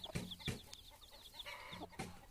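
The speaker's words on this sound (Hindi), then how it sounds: "मुर्गी चल रही है और इसके साथ है चार आठ आठ बच्चे शायद" A hen walks with her brood of about eight or nine chicks on a hillside farm, giving close, repeated clucks with high, thin chick peeps scattered around them.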